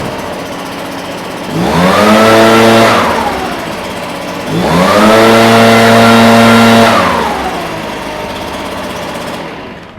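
A Stihl BR 450C-EF backpack blower starts up close by and revs loudly twice, each burst climbing, holding a strong droning roar for about two seconds, then settling back toward idle.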